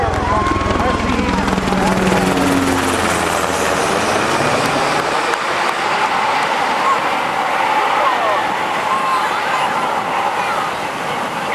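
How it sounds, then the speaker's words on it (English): An HH-60 Pave Hawk rescue helicopter, a modified Black Hawk, flies over at an airshow: a loud whirring roar that sweeps past in the first few seconds and then fades into a steady distant hum, with an announcer talking over it. "HH-60 Pave Hawk helicopter is a modified Black Hawk, which is specifically configured for rescue."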